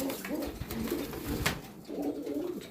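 Ornamental pigeons in their loft coo in repeated soft, throaty rolling phrases close by, with a few wing or perch rustles between calls and no talking.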